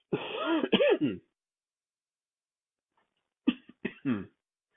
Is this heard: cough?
yes